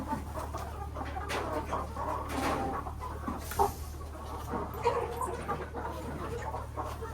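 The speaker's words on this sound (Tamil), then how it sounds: "நமக்கு 2 கோழி அவங்களுக்கு 1 கோழி." Chickens cluck steadily over constant background noise and hum, with irregular close clucks and rustling throughout, at a village gathering preparing a meat feast.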